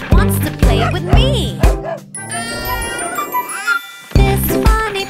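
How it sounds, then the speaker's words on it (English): A small dog yaps several times in quick bursts, close and loud, with a pause and a brief whine or jingle in between before more barks. "This funny puppy goes woof, woof, woof."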